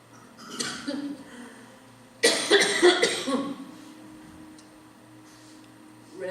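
A person coughs in a quiet room, first a short cough and then a louder burst of several harsh coughs, followed by near silence.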